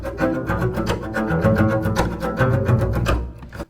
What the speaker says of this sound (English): Chopping is a percussive bow technique where rather than playing the string horizontally for pitch notes,